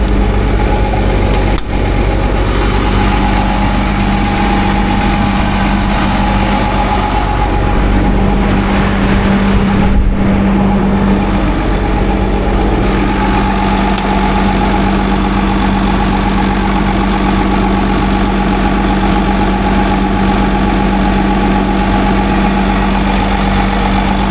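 A heavy equipment machine, a 955 with a worn undercarriage, runs steadily at an auction, its loud engine droning close and continuous with a low rumble and steady hum throughout.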